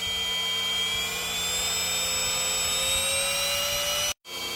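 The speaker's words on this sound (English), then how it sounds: "that solution is the Desclee Cordless Vacuum" A red Desclee cordless vacuum cleaner with three suction modes runs with a steady high-pitched motor whine and faint rising tones, close and continuous, until it cuts off abruptly near the end.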